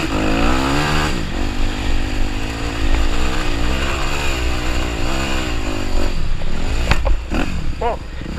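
A dirt motorcycle revs hard in first gear while heading toward a big jump, its engine note rising and falling loudly up close, with a few clattering sounds near the end.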